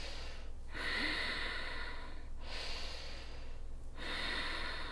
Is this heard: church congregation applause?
no